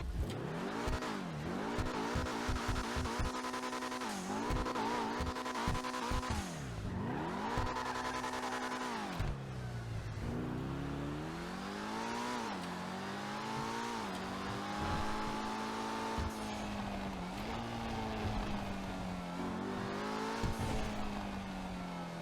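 An Emperor ETR1 race car in GTA Online revs hard through repeated climbs and drops in pitch, a loud, continuous engine roar with gear changes and sustained high-revving passages and no talk.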